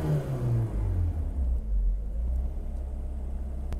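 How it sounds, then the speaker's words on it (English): Engine of a 39-year-old BMW E30 with an idle fault, revving under throttle and then sagging low to a steady, deep rumble, close and alone without talk. "I hit the throttle and it drops to stops at about 1400 RPM"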